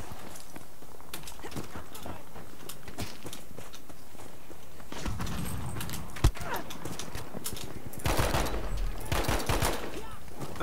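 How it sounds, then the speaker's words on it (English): Gunfire in the Battlefield V Aerodrome map, directed at a tank, with scattered shots and bursts through a busy battle din, one sharp crack near the middle and denser firing toward the end. "I'm shooting back at a tank"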